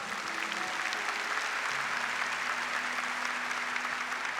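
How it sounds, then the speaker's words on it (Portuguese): A church congregation clapping steadily after a Bible reading, a dense even patter of applause that carries on throughout. "Pode aplaudir a palavra do Senhor."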